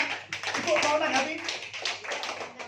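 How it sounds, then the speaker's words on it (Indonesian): A small group at a women's organisation meeting in Dompu claps in short uneven bursts, with talking heard over the applause. "berikan tepuk tangan untuk semangat"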